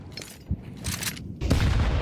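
Grenade blast in the video game Counter-Strike 2 during a tournament match, a sharp boom followed by a rumbling burst with gunfire-like crackle, loud and close with no talk.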